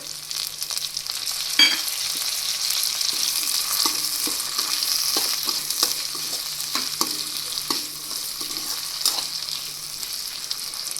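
Carrots and green chillies frying in a pan for a Gujarati gajar marcha sambharo, a steady close sizzle with scattered clicks and a few sharper stirring knocks throughout.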